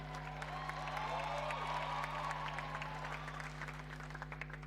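Audience applauding for the Nairobi County governor at a youth climate assembly, steady sustained clapping from a large crowd with a constant low hum underneath.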